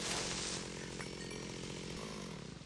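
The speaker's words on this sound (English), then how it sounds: "I love being able to chainsaw creepers." Chainsaw whine from the Minecraft GregTech 6 modpack, used to cut down creepers in a dark cave: a loud, steady buzzing drone that holds for a few seconds and then tapers off, with no talk over it.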